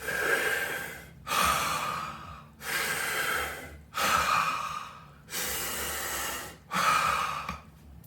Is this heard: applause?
no